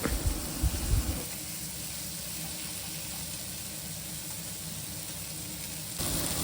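Fish pressed down on a hot tawa sizzles steadily, with a few louder crackles at the start settling into a continuous, moderately loud frying hiss.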